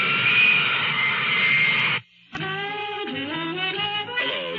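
Military jet aircraft in a Marine Corps radio advertisement for Harrier, Huey, Intruder and Bronco aircraft, a loud steady roaring whine that cuts out abruptly, then a second loud engine sound with shifting tones.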